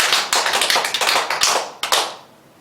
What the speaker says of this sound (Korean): 다시 한번 박수 5번 시작!